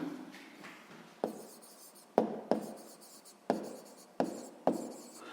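A pen writes out sixth-grade math exercise work on paper, soft scratching strokes broken by several sharp taps as it touches down, close and fairly quiet with no talking.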